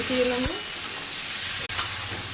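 Potato, radish, pointed gourd and vegetable stalks sizzle steadily in a pan with salt, turmeric, sugar, cumin powder and ginger-chili paste, with a couple of sharp clinks of a stirring spoon against the pan.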